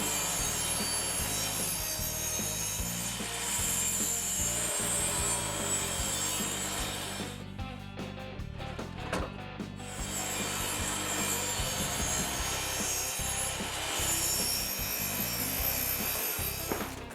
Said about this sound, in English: I'm going to go ahead and shave a little bit off of each side just to give us a flat surface